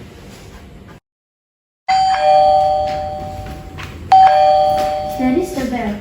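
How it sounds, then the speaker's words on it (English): Doorbell rings twice, each a loud two-tone chime with a long ringing decay, the second starting partway through the first's fade, heard close and over a faint room background. "That is the bell."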